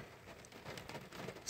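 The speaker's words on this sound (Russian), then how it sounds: "А вот и дождь пошел" Light rain starting to fall on a lake shore on an overcast day: a faint, steady patter with no voices.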